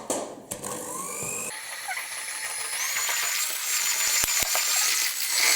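An electric mixer whirs steadily while beating sugar into the batter for an apple cake, its high whine shifting in pitch as the beaters work, with a few brief clicks near the end and no talking.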